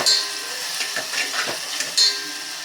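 A spoon stirs turmeric, chili powder and coriander powder in a pan, with soft scraping strokes and a couple of sharp metallic clinks close by.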